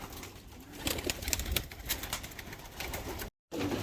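Pigeons coo softly while wings flap in short bursts, with scattered close flutters and rustling through a quiet background and a brief dropout near the end.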